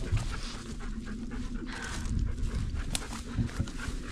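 Dogs on an outdoor trail walk panting heavily: quick, continuous breathy panting close by, with light rustling and movement noise mixed in.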